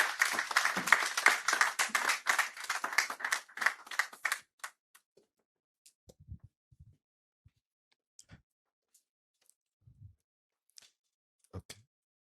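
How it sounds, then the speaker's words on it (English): Applause from a conference audience as an honourable guest is introduced at a construction and real estate outlook event, dense clapping for about four seconds that stops abruptly, followed by near silence with a few scattered faint knocks and rustles. "Round of applause."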